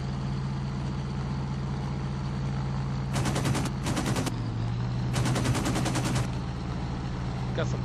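Aircraft machine guns fire in IL-2 1946 over Sicily, three loud rapid bursts of gunfire over a constant droning engine hum, close and dominant, with no talk.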